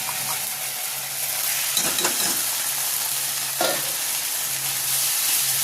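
Spice masala with tomato paste sizzling steadily in a pan, with a couple of scraping stirs of a spoon cutting through the continuous close frying hiss; no voices.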